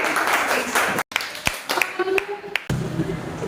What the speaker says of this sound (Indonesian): Oke, tepuk tangan untuk mereka.